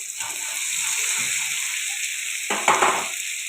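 Potato and jackfruit pieces fry in spiced oil with a continuous close sizzle, then a louder burst of hissing and stirring scrapes in the last second, with no talk.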